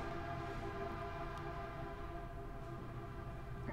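A video game train rumbles steadily throughout, with horn-like sustained tones over a constant mechanical drone, loud and continuous with no talk.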